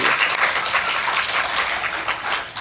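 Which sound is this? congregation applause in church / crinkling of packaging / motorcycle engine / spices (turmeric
congregation applause in church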